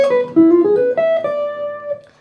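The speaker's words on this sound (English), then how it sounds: "The next idea demonstrates front cycling, and it sounds like this." Clean electric guitar picks out a quick diminished-scale phrase built on symmetrical front cycling, a string of distinct single notes stepping up before a final note rings out and fades, played alone.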